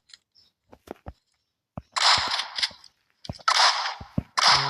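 Bursts of gunfire in PUBG Mobile, a few isolated sharp shots followed by three loud, dense sustained volleys, close and with no talk over them.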